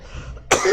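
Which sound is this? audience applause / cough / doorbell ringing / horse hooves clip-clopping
cough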